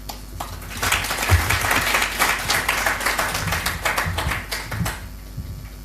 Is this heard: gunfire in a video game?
no